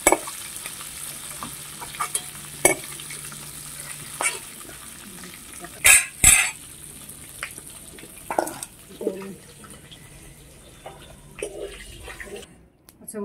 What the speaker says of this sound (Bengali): চিংড়ি মাছগুলো ভাজা হয়ে গেছে। খুব বেশি ভাজবো না, খুব বেশি ভাজলে চিংড়ি মাছগুলো শক্ত হয়ে যায়